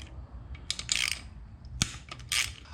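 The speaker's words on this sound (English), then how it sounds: "now we'll switch over to the 8mm socket to get these bolts loosened off." Ratchet fitted with an 8mm socket loosening bolts on a 2023 KX450 motorcycle, giving close bursts of rapid pawl clicking with a sharp metal tap between them.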